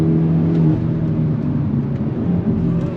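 A 2022 Hyundai Elantra N, front-wheel drive, revs its engine steadily toward redline, a continuous loud, close engine drone with a strong harmonic whine throughout.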